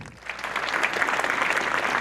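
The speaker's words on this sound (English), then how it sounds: "Give Theresa one more big round of applause," Loud, dense applause from an event crowd at a charity gala, a continuous roar of many hands clapping that builds quickly and stays strong.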